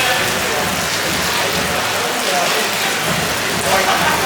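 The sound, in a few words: rain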